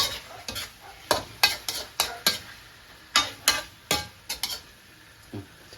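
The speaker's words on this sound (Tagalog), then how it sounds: "Ang sekreto ng masarap na tinola, igisa mo lang siya." Chicken sautés in oil in a pan for tinola, with irregular bursts of spatula stirring and scraping over a soft sizzle, close and loud.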